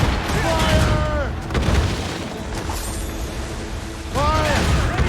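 Ship cannon fire in Assassin's Creed Rogue, booming volleys at the start and again near the end, with a rolling rumble between them and shouted crew voices over the blasts.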